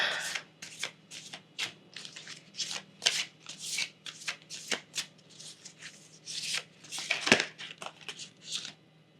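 Oracle cards shuffled by hand, a run of quick, close riffling bursts in an uneven rhythm with short gaps between them, with some light background sound under the shuffling.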